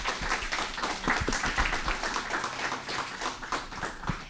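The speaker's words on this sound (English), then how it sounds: "So clap your hands for yourself as well." Audience members clap their hands at the closing event of a meeting in Brazil, busy overlapping claps with distinct sharp hits, fairly close and continuous.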